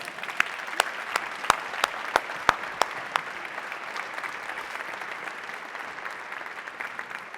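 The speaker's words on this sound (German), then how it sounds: "dass ihr den verdienten Applaus tatsächlich von allen bekommt" An audience applauds startup founders on stage at an accelerator demo day, a steady wash of clapping from a crowd with a few sharp, loud individual claps standing out near the start, then continuing evenly without speech.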